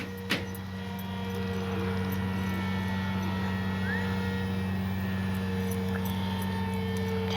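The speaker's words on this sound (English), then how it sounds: "we're going to take off. Taxiing out." An E-flite Timber RC model airplane taxis out for takeoff on its maiden flight, its electric motor giving a steady, moderately loud whine with a low hum that holds evenly throughout, with no talking.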